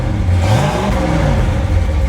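A 1969 Camaro SS V8 idling nearby, a loud, deep, steady rumble with a slight lope.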